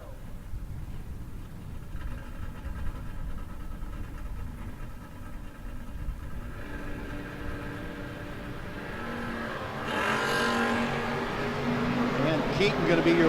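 Drag race cars, among them an '88 Camaro, idling and then launching down the strip, engine roar swelling sharply near the end, with an announcer talking over it.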